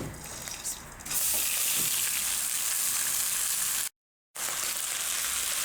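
Washed rice frying in a tablespoon of oil in a pan for chicken kabsa: a quieter start gives way to a loud, bright, steady sizzle, briefly cut to silence near the end before resuming.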